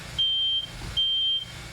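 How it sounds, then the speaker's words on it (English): Two sharp, high-pitched beeps from a new smoke detector in a bedroom, each lasting about half a second, sounding close and loud over a low background rumble. "a new smoke detector in his room goes off"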